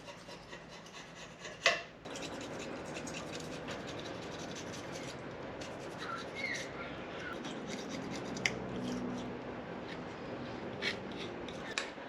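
Gasket residue being scraped off an exhaust manifold and engine block on a 40 series Land Cruiser, a steady rasping, rubbing scrape that runs almost continuously at close range, with a sharper knock near the start.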